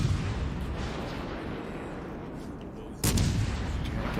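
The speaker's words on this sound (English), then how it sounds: "I think I got the Amagi firing at me." Heavy naval gunfire from the Amagi battleship in World of Warships Legends, a continuous loud rumbling barrage with a sharp, booming volley near the end.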